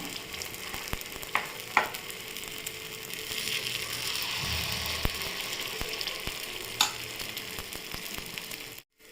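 Sweet rava kuzhi paniyaram fry in a pitted pan, a steady soft sizzle broken by light clicks and scrapes as each one is turned, ending in a brief cutoff.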